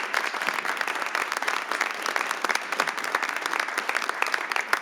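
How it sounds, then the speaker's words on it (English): An audience at a special city council meeting claps steadily for about five seconds, a dense, sustained patter of many hands with no speech over it. "One more round of applause."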